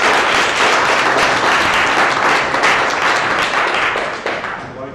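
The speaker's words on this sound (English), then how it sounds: "Please, a big applause." At a tech conference, a hall audience breaks into loud, sustained applause, a dense wash of clapping that fades slightly toward the end.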